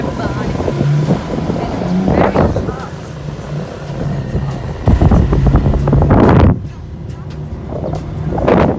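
Motorcycle taxi ride through Bangkok streets toward the Grand Palace, with steady engine hum and heavy wind buffeting the microphone, swelling in loud rushes as the bike speeds up, plus passing traffic.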